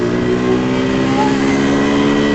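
A motorbike engine drones loud and close while the rider travels on a road, holding a steady revving pitch throughout with rushing wind underneath.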